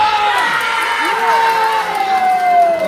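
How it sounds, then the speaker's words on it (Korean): An outdoor festival crowd in Donghae roars with cheers, whoops and shouting voices, some light clapping mixed into the loud, sustained, close hubbub. "박수한테 함성!"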